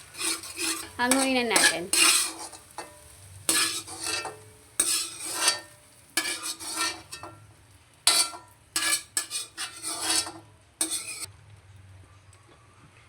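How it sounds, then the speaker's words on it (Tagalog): Egg and carrots stirred in a pan with a metal utensil, giving bursts of scraping and clinking against the pan in irregular strokes. A voice speaks briefly at one point. "Then, i-mix lang natin."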